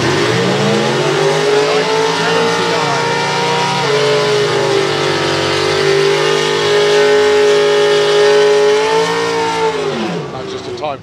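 A drag racing car on a time trial run at Santa Pod Raceway, its engine a loud, sustained roar that shifts in pitch as it goes, then fades away near the end.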